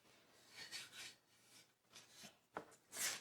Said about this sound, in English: He used a 220 grit sandpaper.